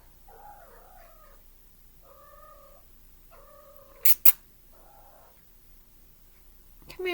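A pet cat with anxiety meows repeatedly indoors, four or five drawn-out wavering calls spaced about a second apart, with a couple of sharp clicks partway through.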